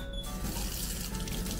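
Water runs steadily from a strawberry-shaped faucet at a Japanese strawberry farm, a soft continuous splashing stream heard close by with no voices.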